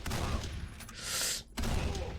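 Shotgun fire in the video game Condemned: Criminal Origins, heavy booming blasts that fill the short span, broken by a brief gap before another loud burst, close and dominant.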